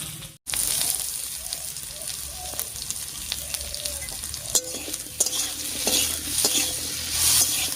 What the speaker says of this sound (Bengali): লবণ হলুদ দিয়ে নাড়িয়ে নিলাম